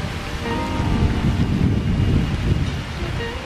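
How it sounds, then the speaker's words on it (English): Steady rain pours down in Buxton in a dense, continuous hiss with low rumbling underneath, loud and close throughout with no pauses. "It started raining."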